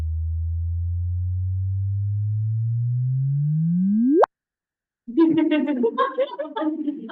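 A sonified gravitational wave chirp from two merging neutron stars: a pure low tone rises smoothly and steadily in pitch, sweeps up sharply into a sudden cutoff, and after a short silence a voice speaks.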